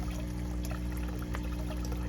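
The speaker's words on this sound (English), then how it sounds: "Okay, water's flowing into the grow bed, so the pump is working." Pumped water pouring from a pipe into an aquaponics grow bed, a continuous soft trickle and splash over a steady low pump hum.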